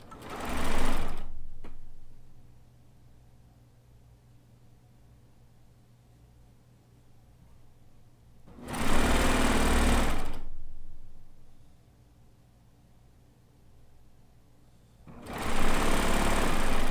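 Sewing machine joining Kaffe layer cake quilt pieces, three loud bursts of stitching with long quiet gaps between them, close by.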